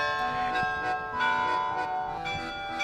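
The Netherlands Carillon bells ring in overlapping, sustained metallic tones, several strikes layering into a rich, continuous chime with no talking.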